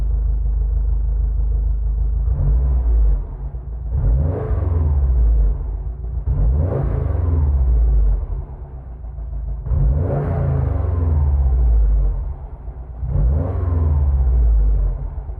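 A 2021 Subaru STI engine revs repeatedly, rising and falling in roughly five loud vroom bursts over a steady low rumble.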